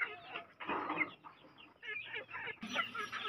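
Chickens and chicks clucking close by in a short, busy burst of overlapping clucks and peeps, fairly faint but steady throughout.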